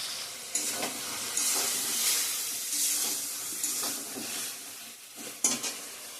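Food frying in a home kitchen pan, a soft continuous sizzle and hiss with intermittent scraping and clatter of stirring, fairly close and moderate in level.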